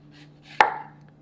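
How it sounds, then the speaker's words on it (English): A knife slices through an onion to cut rings, making one sharp, close chop against the board in a quiet room. "now I'm going to cut the onions them in rings"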